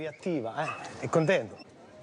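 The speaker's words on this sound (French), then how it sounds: "Depuis 4 ans, Zikos, un berger allemand, contrôle tous les passagers" An excited German shepherd detection dog yips, whines and barks in quick, eager bursts, close by and loud, with its pitched cries rising and falling across the moment.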